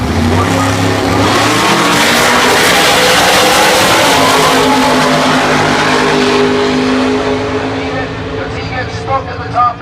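Outlaw 10.5 and EZ Street drag racing cars roar down the strip at full throttle, a loud sustained engine blare that slowly fades toward the end, with an announcer's voice speaking over it.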